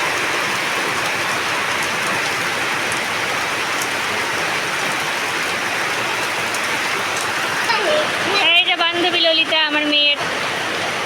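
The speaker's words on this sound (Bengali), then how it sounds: "আরও বৃষ্টি বেড়ে গেল দেখো" Heavy, continuous rain pours down in a dense, even roar; near the end a brief voice-like tonal sound rises over it.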